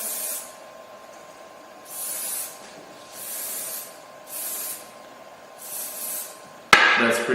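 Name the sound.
spraying a part before 3D scanning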